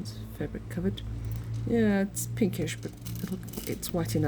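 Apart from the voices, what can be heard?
None of the usual background noises is heard.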